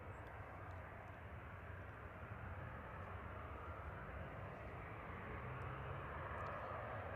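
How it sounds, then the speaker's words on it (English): A TAP airliner departing Manchester Airport, a steady broadband jet roar heard from a distance that holds evenly and builds slightly toward the end, with no talk. "So we've got TAP heading out."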